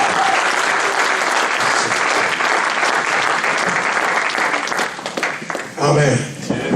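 A church congregation applauds loudly and steadily, a dense wash of clapping that carries on for several seconds before thinning near the end, with voices mixed into the crowd noise.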